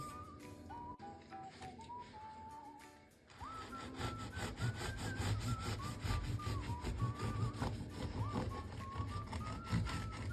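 A serrated knife saws through a loaf of homemade wheat-rye bread, a rapid rasping back-and-forth scrape close up and fairly quiet, with steadier strokes after a brief pause.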